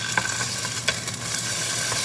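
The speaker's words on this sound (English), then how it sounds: "The beef is cooking pretty good, guys. You can see it's nice and sizzling." Steady, close sizzling and crackling of beef frying in a hot stir-fry pan, with a few brief clinks of stirring; no voices.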